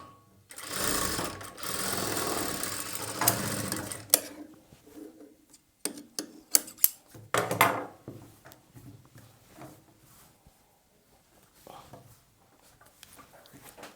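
A domestic sewing machine stitches a plain blouse, with a rapid mechanical whirr in short bursts that stops and starts amid clicks and handling, then quiets down with low talking at the end.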